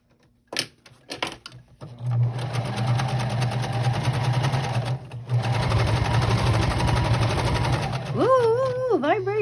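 A sewing machine stitches appliqué in a steady, fast mechanical whir after a few short starts. It briefly pauses, then runs again for a backstitch before a voice begins speaking over the end.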